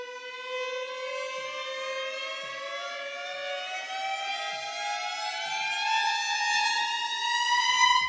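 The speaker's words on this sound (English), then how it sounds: "with that Audio Imperio Constrictor, I'm adding another little riser" Rising synthesized riser effect from the Audio Imperio Constrictor, a steady upward-sweeping tonal swell with stacked harmonics that climbs in pitch and grows slightly louder over about eight seconds, heard alone without speech.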